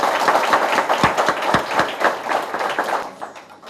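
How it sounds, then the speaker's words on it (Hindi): An audience applauds at a university department orientation programme, dense overlapping hand claps, loud and close, fading slightly at the end. "हम तालियां बजाते हैं।"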